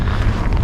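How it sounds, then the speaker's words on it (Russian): Cold, steady wind buffeting a microphone outdoors during a drone test flight, a loud low rumbling gust with no breaks. "ветер слабее не стал, все так же холодно, все так же дует."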